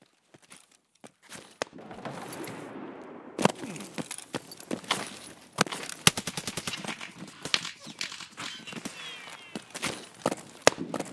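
Escape from Tarkov gunfire: sharp shots crack in irregular single rounds and short automatic bursts, mixed with footsteps and movement noise, varying from loud and near to quieter, with a brief rushing sound early on.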